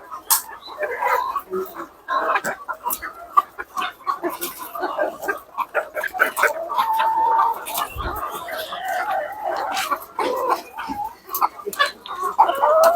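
Hens clucking on an egg farm, a steady stream of close, overlapping clucks and short calls with a few longer squawks, continuing throughout alongside intermittent background noise.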